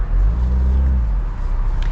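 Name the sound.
BMW Z4 B58 engine running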